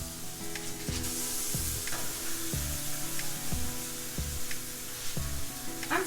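Chicken and ground turkey sizzle in a hot pan for freezer breakfast meals, a steady close frying hiss with occasional stirring scrapes throughout.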